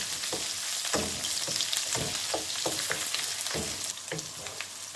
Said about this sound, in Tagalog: haluin muna natin para maluto ang bawang at ang sibuyas natin